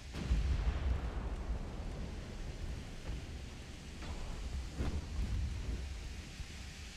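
A 5-inch naval shell hit in the Ultimate Admiral: Dreadnoughts game, heard as rumbling distant booms and low explosive thuds rolling over a continuous battle roar, with a couple of sharper impacts midway.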